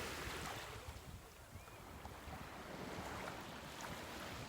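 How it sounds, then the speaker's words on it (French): Steady wash of sea waves and surf at night with wind noise, a continuous dull roar, fairly faint and without voices. "Écoutez la mer, écoutez"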